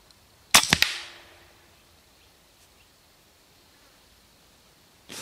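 A Kral Puncher NP1 air rifle fires once at a target range, giving a sharp, close crack followed by a short decay and quiet, with a second faint shot right at the end.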